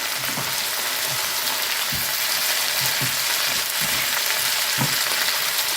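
Tamarind frying in sesame oil, a steady loud sizzle with occasional soft stirring knocks throughout.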